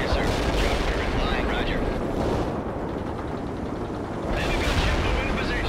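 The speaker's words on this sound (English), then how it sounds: "My men are under heavy fire." Heavy gunfire and explosions during a helicopter battle in the video game Soviet Assault, a loud, continuous roar of shooting with brief shouted radio voices over it.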